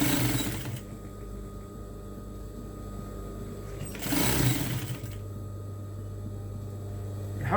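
A sewing machine stitches a curved seam in short bursts of steady mechanical whirring, with a brief pause and a restart, close and moderately loud over a low hum.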